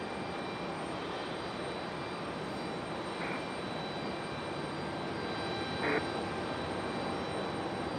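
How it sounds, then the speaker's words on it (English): A Delta Connection CRJ jet operated by Endeavor Air arriving at Raleigh-Durham airport in stormy weather, a steady distant engine roar with a brief whining tone, broadband and fairly faint. "Next arrival is a Delta Connection CRJ. This one coming in from LaGuardia."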